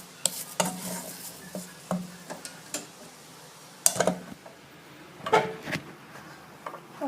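Cabbage fufu being transferred and rubbed smooth in a dish: scattered scraping, tapping and clinking of utensil against dish, irregular and close, with short louder bursts between quieter stretches.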